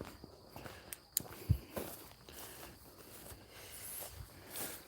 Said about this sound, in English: we're hearing footsteps and shit